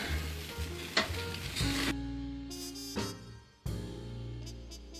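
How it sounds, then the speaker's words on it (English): Bacon sizzles as it crisps in a greasy pan, a close, moderate crackle with a few light clinks and shifts in the tone, and no talking. "A little bit of bacon crisping up"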